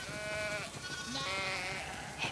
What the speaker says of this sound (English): Definitely have way too many sheep.